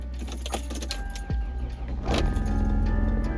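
A cold car being started after a search for keys: a brief jangle of keys, then the starter cranking and the engine catching into a steady close idle, with no one talking.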